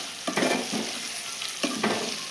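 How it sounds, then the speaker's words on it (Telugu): Sliced onions and amaranth leaves fry in oil in a pan with a constant hiss of sizzling, broken by a few sharper scraping stirs, close and clear with no talking. "ఆయిల్లో కొద్దిగా ఫ్రై అయితే సరిపోతుందండి."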